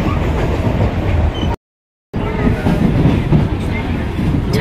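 Inside a moving passenger train near Kalyani station, a loud continuous rumble with rhythmic rattling carries on, broken by one brief silent gap before it resumes.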